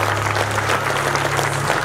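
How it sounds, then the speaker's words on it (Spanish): A church congregation applauds loudly and steadily during a Spanish-language service, with dense clapping throughout and a low sustained tone underneath. "denle un fuerte aplauso"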